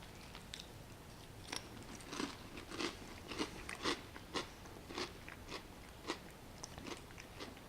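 Someone eats a bowl of cereal, with a series of close, crisp crunches from rhythmic chewing and bites about every half second, and no talking.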